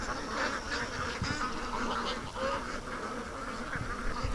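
Ducks at a lake, Muscovies among them, giving agitated quacks and calls in a busy chorus at moderate distance, with buzzing insects mixed in.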